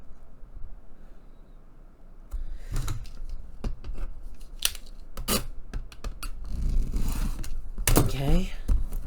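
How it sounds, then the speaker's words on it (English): Scissors cutting paper at a crafting table, a run of sharp snips and rustles starting after a quiet moment, with the paper crinkling louder near the end. "I'm going to cut this thing out 2 inches because I want this leaf image"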